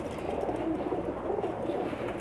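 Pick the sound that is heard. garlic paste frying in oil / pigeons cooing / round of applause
pigeons cooing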